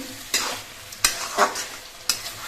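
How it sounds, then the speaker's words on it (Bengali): Mutton pieces for a curry being sautéed in a pan, steady sizzling with sharp scraping stirs at regular intervals, close and clear with no talk. "মাংসগুলো আমি প্রায় আধ ঘন্টা ধরে কষিয়ে নিয়েছি"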